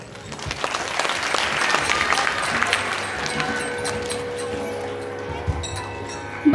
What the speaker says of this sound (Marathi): आणि टाळ्या वाजवायच्या आहे